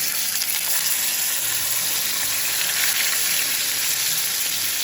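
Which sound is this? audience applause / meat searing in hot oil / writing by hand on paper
meat searing in hot oil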